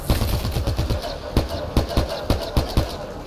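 Rapid bursts of weapon fire in Mass Effect Andromeda, a quick run of shots followed by slower, evenly spaced sharp reports, loud and close.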